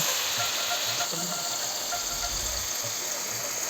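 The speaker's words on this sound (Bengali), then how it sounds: "এখন এখানে একটা একটা করে মাছ দিয়ে দেবো" Pieces of pomfret (rupchanda) fish fry in a pan with a loud, continuous sizzle and bubbling hiss that stays close and steady throughout.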